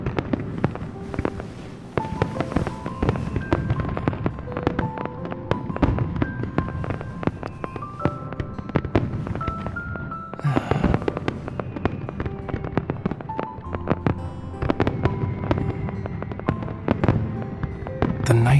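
Fireworks burst across the night sky in a romance video game scene, a dense, continuous run of booms and crackling pops with sparkling tails that keep overlapping for the whole stretch.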